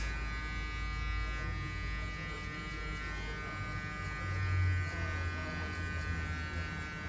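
Electric hair clippers buzz steadily while cutting a man's hair at a barber's, a close, continuous hum with slight swells as the blade moves through the hair; no speech.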